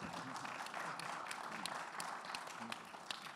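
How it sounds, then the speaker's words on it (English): A conference crowd applauds the panelists after a fireside chat on investing in Africa at Capacity Europe 2022, a soft, even patter of many hands heard faintly from a distance, with scattered sharper claps. "I would like to big round of applause to the panelists"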